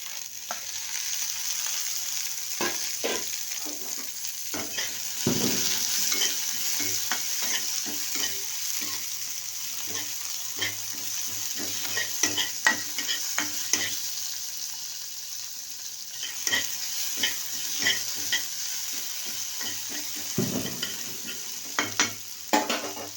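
Chopped tomato stir-fried in a pan for chapathi pasta gives a continuous close sizzle, punctuated by frequent rhythmic scrapes and taps of a spatula against the pan.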